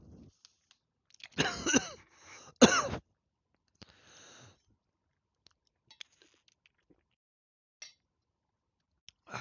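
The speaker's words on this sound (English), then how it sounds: "Obviously, I'm coughing a whole bunch for no reason." Two sharp coughs close to the mic, then a softer throat-clearing sound and scattered small clicks in near silence.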